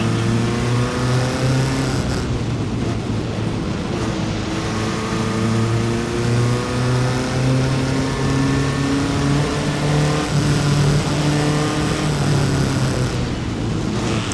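Loud SCCA Improved Touring race car engines drone and rev continuously at Mid-Ohio, with pitch rising and falling as cars pass close by on the track.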